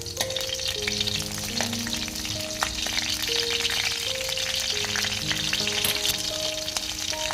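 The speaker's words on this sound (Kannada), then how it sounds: "ಇದಕ್ಕೆ ಸ್ವಲ್ಪ ಎಣ್ಣೆ ಕಾಯಿಲಿ ಮೆಣಸಿನ್ಕಾಯಿ ಹಾಕ್ಕೊಳ್ಳೋಣ." Green chilies fry in hot oil for a fish curry, giving a loud, continuous, close-up crackling sizzle that stays steady throughout.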